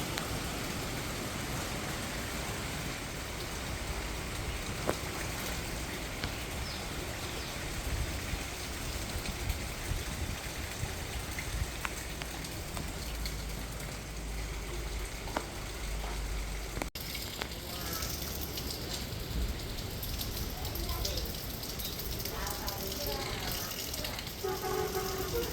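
Heavy rain with gusting wind lashing trees along a flooded street in Nallur, Jaffna, where pond and road have merged; a steady, dense roar of rainfall and wind runs throughout, with faint talk mixed in.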